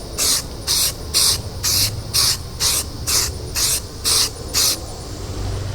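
An aerosol can sprays light coats of paint onto a car wheel cover in ten short, evenly spaced hissing bursts, close and loud, with brief quiet gaps between them.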